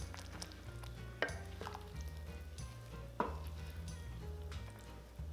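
Tofu puffs and eggs drop into a pot of simmering Thai braised pork belly, two soft splashing knocks over a steady low bubbling and faint stirring, close and quiet, with no talking.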